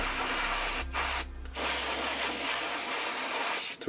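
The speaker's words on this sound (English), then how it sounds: "Spraying them with water" Steady, close hiss of a spray bottle misting water onto wargaming miniatures to activate chipping medium, broken by a few short pauses between pumps, with no voices.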